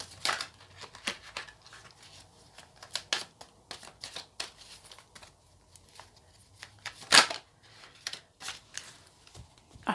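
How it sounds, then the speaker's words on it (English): Tarot cards are shuffled in irregular bursts, crisp riffling and slapping sounds close by with short quiet gaps between them. "I feel like this shuffling is probably taking up about half of the reading"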